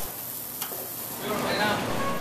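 Steak topped with house steak butter sizzling in a steakhouse kitchen, a steady close frying hiss that swells louder partway through, with no talk.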